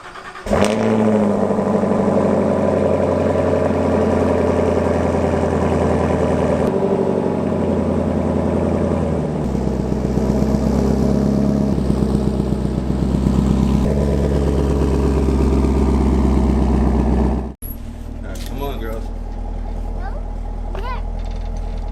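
A Chevrolet Camaro SS 1LE V8 starts up and idles with a deep, steady rumble while pulling out of a home garage, before cutting off abruptly near the end; a person talks over it.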